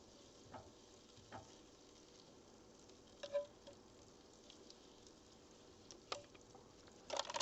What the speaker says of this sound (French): on va mettre un petit peu d'huile et un petit peu de beurre